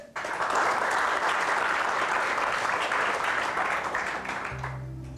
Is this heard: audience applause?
yes